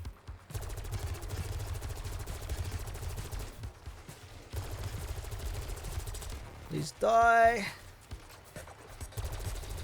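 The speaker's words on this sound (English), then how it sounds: "the ray gun Mark II that we've got it's got a really high rate of fire" Rapid bursts of gunfire from the Ray Gun Mark II in Black Ops 6 Zombies, a high rate of fire in repeated stretches, with a loud pulsing buzz near the end and someone talking over it.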